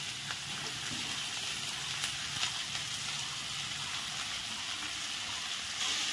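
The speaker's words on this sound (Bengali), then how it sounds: "পেঁয়াজগুলো এখন ভেজে নেওয়া হচ্ছে।" Chopped onions and garlic fry in oil for an egg and soybean biryani, a faint, even hiss of sizzling that holds steady throughout.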